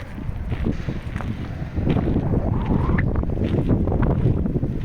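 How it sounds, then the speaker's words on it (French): Heavy wind buffets the microphone, a loud, rumbling low roar that swells partway through and stays strong to the end. "il y a beaucoup de vent, alors je ne sais pas, voilà, le son va être exécrable"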